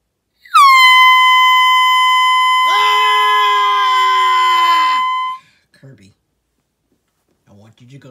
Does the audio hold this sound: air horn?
yes